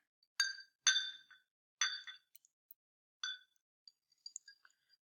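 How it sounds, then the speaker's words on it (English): Water poured over ice in a small glass gives a few bright clinks and ringing taps in short separate bursts, with a couple of faint tinkles trailing off, close and quiet with no talking. "what if we put ice in a little glass and then pour the water over top of that?"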